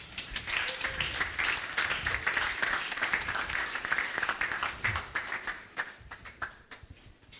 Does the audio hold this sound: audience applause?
yes